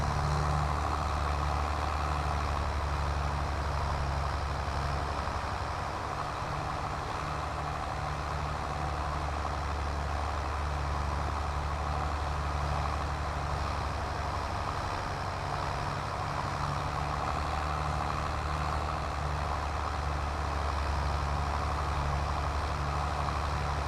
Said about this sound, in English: It's a JLG telehandler with, instead of 4 wheels, it's 4 tracks.